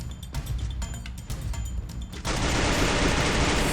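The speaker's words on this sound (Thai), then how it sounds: "สับยิงไปหนึ่งชุด" A SCAR assault rifle in a video game fires a rapid burst of close, dense shots, followed by a sustained loud roar of gunfire and noise.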